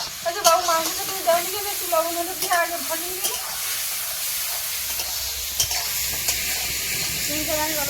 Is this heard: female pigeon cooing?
no